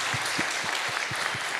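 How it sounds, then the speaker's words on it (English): Audience applause at an Indian public forum with prominent speakers on one stage, a steady wash of many hands clapping at moderate distance, dense and continuous with no voices on top. "I think this young lady deserves a big round of applause."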